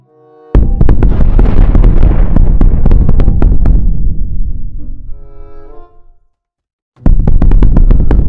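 Grenade blasts in the sandbox game WorldBox: a loud, dense burst of explosions with crackling pops that rumbles and fades over several seconds, then a brief silence before another sharp blast begins.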